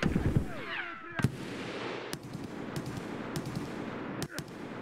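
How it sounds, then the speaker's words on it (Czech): Gunfire in the game Escape from Tarkov: a sharp report near the start followed by several separate, distant-sounding shots spaced irregularly over a steady ambient background, with no talking. "střílí po skavě a ne po nás"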